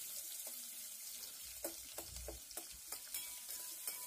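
Thinly sliced long onion pieces stirred in a pan for quick upma: a soft, quiet sizzle under a series of spaced, distinct scrapes and taps of a ladle, close by, without speech.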